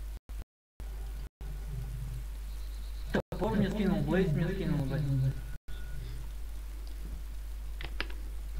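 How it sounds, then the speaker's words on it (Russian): Steady rain falls in the survival game DayZ, a constant soft hiss and patter running throughout, while someone talks over it in the middle. "У тебя дождь идет?"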